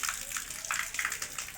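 Rainwater running from a roof drain pipe into a tub during rain, a close, continuous splashing and gurgling stream lasting a moment.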